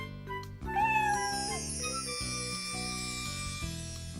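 A kitten gives a short, high meow near the start over soft background music, and nobody speaks, in the Caillou children's cartoon.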